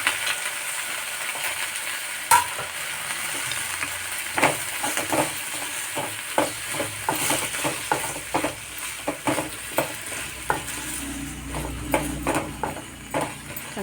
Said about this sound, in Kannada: ಸ್ವಲ್ಪ ಎಣ್ಣೆ ಹಾಕ್ಬಿಟ್ಟು ನಾನು ಬೆಂಡೆಕಾಯಿನ ಚೆನ್ನಾಗಿ ಹುರ್ಕೋತೀನಿ.